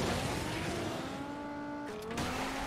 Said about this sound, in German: Gucken, wie der Dodge Challenger klingt in diesem Spiel.